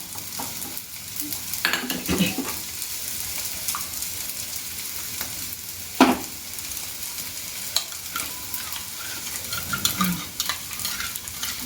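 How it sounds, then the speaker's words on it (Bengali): Potatoes frying and being stirred with spices in a pan for a simple rohu fish curry without onion, a soft steady sizzle with occasional scraping stirs, close and fairly quiet, no talking. "এখন এই মশলাটা দিয়ে আলুটাকে কষিয়ে নেব।"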